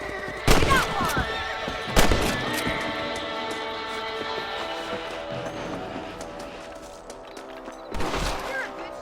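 Several gunshots ring out in Red Dead Redemption as rabbits are hunted, sharp cracks spaced a few seconds apart over a steady bed of game music and ambience.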